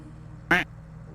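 A single short, loud duck quack from the Farming Simulator 22 game stands out clearly against quiet low background hum.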